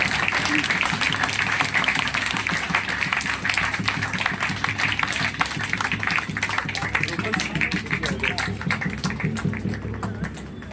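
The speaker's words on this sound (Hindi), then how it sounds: "तालियों में कंजूसी न करें" Audience applause at a police passing out parade on the 2nd Battalion PAC parade ground in Sitapur, a dense, rapid clapping that carries on steadily throughout, with a voice over a loudspeaker speaking over it.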